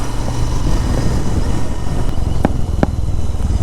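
A Royal Enfield Interceptor motorcycle rumbles steadily under road noise, with two sharp exhaust pops cracking out near the end.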